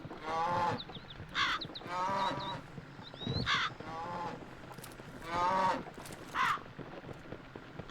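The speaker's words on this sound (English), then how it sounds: "Oh man, my cows are in the way." Cows moo repeatedly in the video game Shotgun Farmers, several drawn-out calls at irregular intervals, mixed with short higher-pitched game bird cries.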